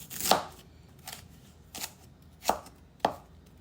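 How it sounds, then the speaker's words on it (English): A kitchen knife chops through peeled ginger on a cutting board, landing five sharp, separate strokes at uneven intervals, close and clear with no talking. "First I'm going to peel and shred the ginger. Ginger, you want to slice it thinly."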